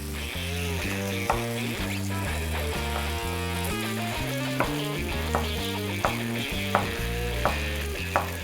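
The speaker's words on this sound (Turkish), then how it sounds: "Biberlerle birlikte güzelce soteleniyorlar." Zucchini and peppers sauté in a pan with a continuous, soft sizzle, punctuated by regular stirring taps every second or so, while background music plays underneath.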